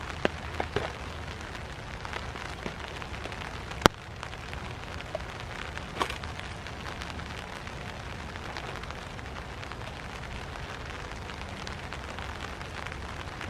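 Steady rain falls on an overnight hammock camp, a dense even hiss of drops with a few sharper taps and pops standing out, close and continuous throughout with no voices.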